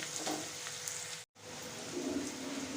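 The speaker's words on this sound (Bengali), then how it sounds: "পেঁয়াজ আর ক্যাপসিকামটা আমার হালকাভাবে ফ্রাই হয়ে গেছে" Onion and capsicum fry in oil in a pan for chilli chicken, giving a steady close sizzle with light crackles and a brief break partway through.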